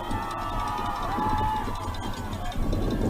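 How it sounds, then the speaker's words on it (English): A football crowd at a high school playoff game cheers steadily in a broad, distant roar with a brief swell near the end. "Crowd's a little fired up here."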